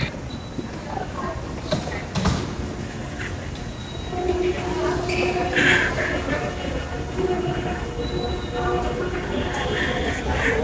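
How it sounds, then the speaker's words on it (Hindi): Interior of a passenger train car, with rumbling wheels, clattering joints and faint squeals rising and falling over about ten seconds while people talk in the background. "भाई ये ट्रेन आ चुकी है हमारी और अभी हम लोग इस पे बैठने लगे हैं।"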